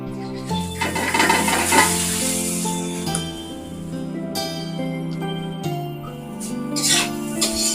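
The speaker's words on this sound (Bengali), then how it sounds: "তেল গরম হয়ে গেছে এবারে আমি চাউমিনগুলো দিয়ে দেব" Chowmein noodles hit hot oil and fry with a steady sizzle, tossed and stirred in the pan, with tonal background music running loudly underneath throughout.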